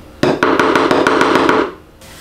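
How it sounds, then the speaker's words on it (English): A knife chops food roughly on a cutting board in a kitchen, a quick run of about nine loud, evenly spaced thuds that stop abruptly, close and alone with no talk. "just roughly chop because you're going to add it to the processor"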